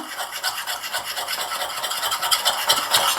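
A small whisk beats homemade after-sun cream in a bowl, giving a steady, fast, close scratchy whirring that runs continuously throughout without talk.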